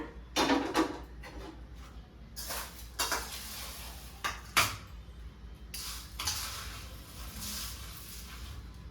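Metal kadai pan being set down on a stove for roasting green gram, a string of clanks and scrapes of cookware and utensils, close and sharp with quiet gaps between.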